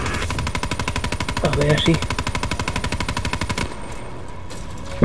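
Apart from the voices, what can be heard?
gun firing in video game Call of Duty Black Ops 3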